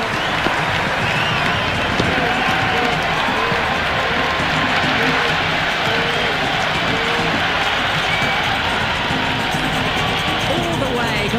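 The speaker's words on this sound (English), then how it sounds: "it's so clear that all these spectators here today are completely enthralled and energised, judging by that noise anyway" A stadium crowd in the cricket video game Cricket 26 roars continuously after a six in an IPL 2026 match between PBKS and DC, a loud, sustained wall of cheering and applause with no break.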